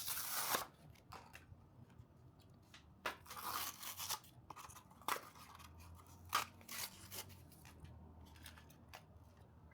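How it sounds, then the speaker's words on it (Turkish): Someone opens the packaging of a Hot Wheels Hammer Drop toy car set, with close, sharp bursts of tearing cardboard and plastic, snipping and crinkling. The noises come in irregular clusters with quiet gaps between them. "Hammer Drop setini açıyoruz arkadaşlar."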